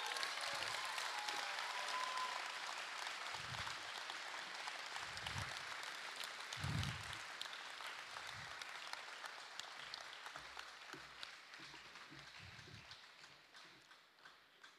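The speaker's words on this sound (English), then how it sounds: "Keep clapping. It deserves it." Faint, distant audience applause at a secondary school awards and graduation ceremony, a continuous soft patter of many hands slowly tapering off over about fifteen seconds.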